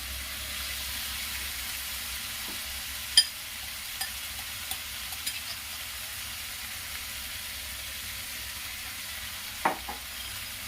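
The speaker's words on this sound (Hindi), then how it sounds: "अब वो जो सोया कीमा को जो मैं मैरिनेट की थी उसे डालूंगी" Marinated soya keema frying in a hot pan with a little added water, a soft, steady low sizzle with a couple of brief utensil clinks, fairly quiet and without voices.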